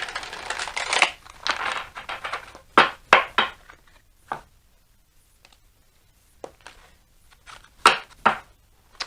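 Bursts of riffling and flicking cards, some longer shuffles and some quick snaps, separated by quiet pauses.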